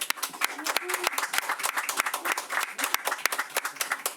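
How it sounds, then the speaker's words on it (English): Steady applause from a room full of people, dense clapping that continues throughout with some voices mixed in. "join me in giving her a round of applause"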